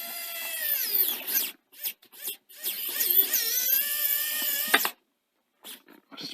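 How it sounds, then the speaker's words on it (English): Whining electric screwdriver driving screws into the case of a Sony SL-C20 Betamax VCR, several rising and falling bursts with short pauses between them, close and fairly loud. "Let's get some screws in."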